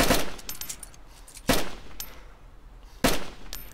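Gunfire in the survival game DayZ: three sharp, loud shots spaced about a second and a half apart, each with a short echoing tail.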